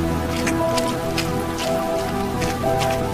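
Heavy monsoon rain in Bihar falls steadily as a dramatized effect, a dense continuous patter of drops striking surfaces with scattered louder splashes, and no voices.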